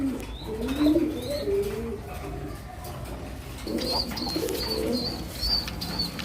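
Racing pigeons cooing on a farm, soft low coos repeating in short phrases under a busy outdoor background, with faint chirps and a voice talking at times.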